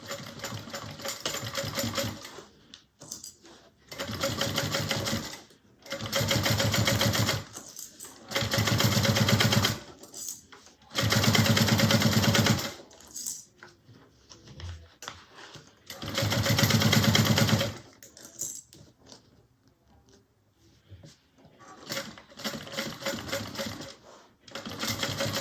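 A sewing machine stitches a bag seam with a 3/8 inch allowance, including backstitching: repeated bursts of rapid, even needle clatter lasting a few seconds each, close and clear, separated by brief pauses, with no talking.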